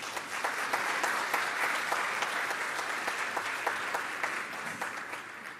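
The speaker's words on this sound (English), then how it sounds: "big round of applause" Steady, fairly distant applause from an audience at a keynote speech in Penang, an even wash of many hands clapping that carries on without a break.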